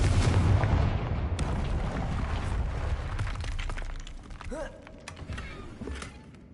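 A Confringo fire spell bursts in Hogwarts Legacy, opening with a loud booming blast that decays into crackling debris and scattered sharp impacts, fading over several seconds.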